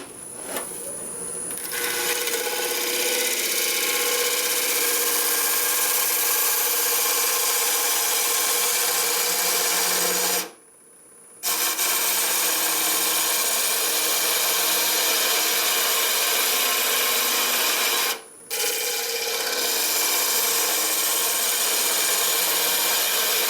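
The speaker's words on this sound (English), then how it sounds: "I'm going to take another cut from here and get about another, I would say about another 1/8 of an inch off there" A lathe tool cuts into a spinning maple burl bowl, giving a loud, continuous close-up scraping roar that breaks off briefly twice before resuming at full strength.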